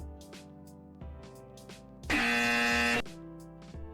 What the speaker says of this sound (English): That's the incorrect buzzer for you, Neuro.